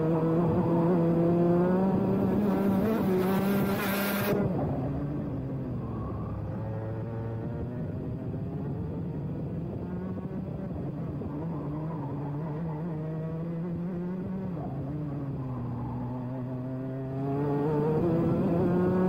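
Racing karts at Whilton Mill on the final lap of a club final, engines whining and rising in pitch as they pass close, then a long steady drone from farther off before nearing again.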